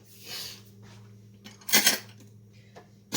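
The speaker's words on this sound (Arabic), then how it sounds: "نجي نحيد هاد المعلقات من هنا" Metal spoons clink and rattle as they are picked up and set aside on a kitchen counter during dessert cream preparation, a few sharp, close clatters, one louder, over a steady low hum.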